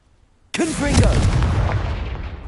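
A Confringo blasting spell goes off in Hogwarts Legacy, a sudden loud explosive burst that rolls into a sustained roaring rumble for about two seconds, with a brief voiced cry at the onset.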